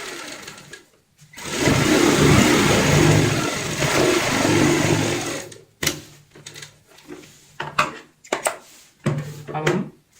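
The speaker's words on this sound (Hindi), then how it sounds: "अब हम ये वाली सीधी सिलाई लगाएंगे।" Sewing machine running a straight seam on a round cushion cover, a steady close whir for several seconds, then short start-stop bursts of stitching with pauses between.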